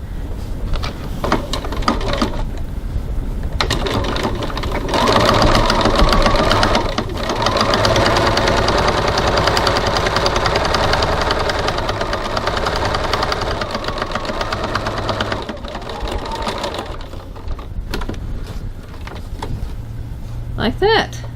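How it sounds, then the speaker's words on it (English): A sewing machine top stitches a bag lining 3 mm from the edge at stitch length 3.3, running loud and close in a steady motorised whir with brief stops, while a voice talks over it. "now I'm going to top stitch 3 millimeters 1/8 of an inch from the top edge"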